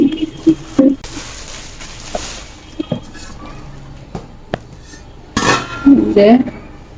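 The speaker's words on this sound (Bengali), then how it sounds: "এখানে আছে একটা বড় হাড়ি" A big, heavy steel cooking pot is handled, with scattered metallic clinks and knocks and a cluster of louder clanking and rattling near the end.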